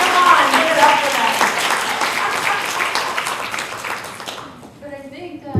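Workshop participants give the role-play performers a round of sustained, moderately loud clapping that tapers off toward the end, when a voice starts talking.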